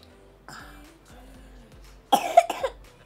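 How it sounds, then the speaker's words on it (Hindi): A few short, low vocal sounds give way to a burst of harsh coughing, two or three rough coughs close to the listener near the end. "बहुत खांसी हो गई है।"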